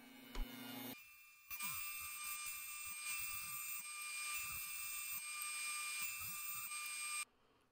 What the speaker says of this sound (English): Now let's switch out to a dado blade and cut some dados in these pieces